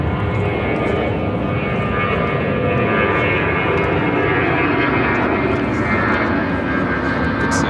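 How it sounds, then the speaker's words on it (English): A United Boeing 757 landing at Chicago O'Hare after a flight from LAX, heard as a loud, sustained engine roar with a faintly shifting whine, steady and nearby throughout. "Just had a United 757 land from LAX"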